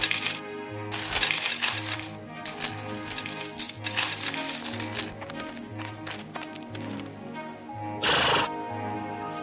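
Gold coins dropped and clinking into a pile, several bright metallic bursts in the first half over a steady musical backing, with a horse neighing and hooves clip-clopping nearby.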